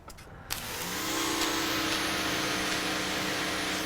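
SunJoe electric pressure washer running through a 100-foot hose: the motor starts with a click, then spins up into a loud, steady whine and spray hiss that holds, close by.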